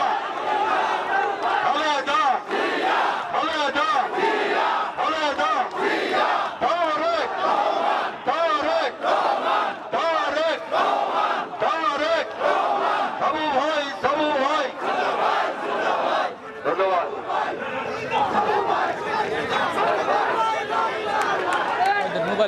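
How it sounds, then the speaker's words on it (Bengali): A crowd at a political rally chants slogans for Khaleda Zia in rhythmic call-and-response bursts, loud and close, with a leader's voice calling out over the massed shouting throughout. "আমার সঙ্গে স্লোগান দেন খালেদা"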